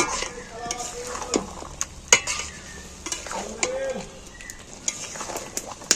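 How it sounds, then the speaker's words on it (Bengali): Chicken pieces and potatoes frying in a pan as the mixture is stirred vigorously, with close, frequent spoon clinks and scrapes over a continuous sizzle. "এইবার আমি ভালো করে আবারও কষে নেব"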